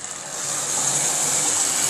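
A Lionel 249 model steam engine with tender running on toy track gives a steady, dense whirring hum with a hissy high rattle, constant and close throughout.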